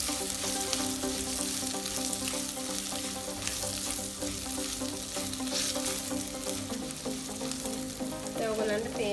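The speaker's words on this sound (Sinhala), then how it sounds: "කලින් කපාගත්ත තියෙන පොල් කෑලි ටිකක් ඒකත් තෙල් එකටම දානවා" Coconut pieces frying steadily in hot oil for a Sri Lankan polos curry, a dense continuous sizzle with no break, close and even throughout.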